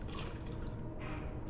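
Steady dripping and trickling water in a dark, flooded area of Resident Evil 2, a constant wet patter filling the space at moderate level with no voices.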